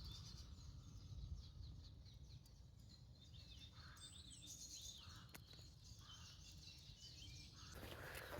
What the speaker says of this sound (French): il y a plein d'oiseaux qui chantent.